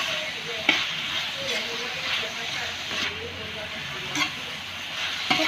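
Food sizzles and hisses steadily in a hot wok during stir-frying while a spatula scrapes and clanks against the metal now and then, with speech faintly underneath.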